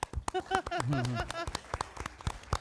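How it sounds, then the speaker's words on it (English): A few scattered hand claps in a school board of education meeting room. The claps are sparse and uneven, and a voice speaks briefly among them. "Yes, we can clap."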